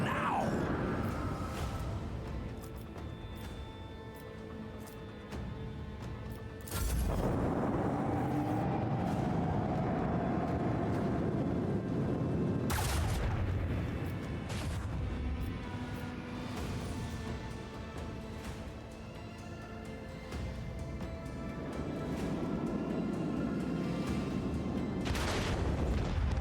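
Torpedo launches and explosions during a space battle in Warhammer 40,000: Rogue Trader, with repeated heavy booms at intervals over a dense, rumbling battle din lasting throughout.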